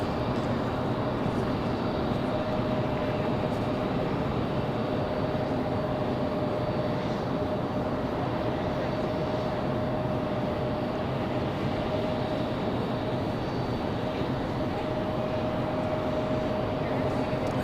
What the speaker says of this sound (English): Air France taxiing quite quickly.